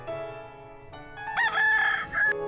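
A rooster crows once, loud and bright, rising over a sustained musical background after a quieter opening.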